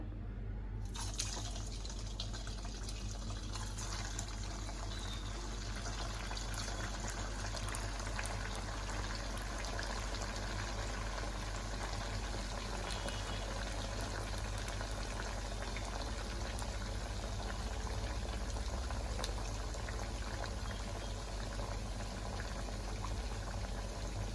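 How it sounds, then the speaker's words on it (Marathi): Sabudana vada fry in hot oil, a steady faint bubbling sizzle that continues evenly throughout, with no voices. "तेल तापून घेतलं आहे आता आपण वडे तळूया"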